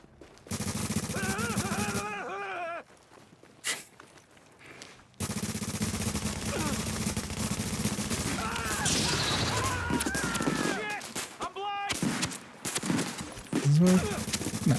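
Video game gunfire crackles in long automatic bursts and scattered shots, loud and close, broken by brief quiet gaps, with a voice speaking in between.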